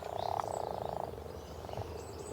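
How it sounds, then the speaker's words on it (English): Frogs croak in a steady, rapid pulsing chorus, close and fairly loud, with a softer second burst of croaks trailing off near the end. "if I sit very quietly by the pond and stop Nigel charging around, you can hear the frogs"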